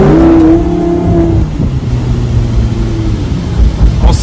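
A rear-engine car pulls away and accelerates, its engine note climbing and then settling into a loud, close roar, with people talking faintly underneath.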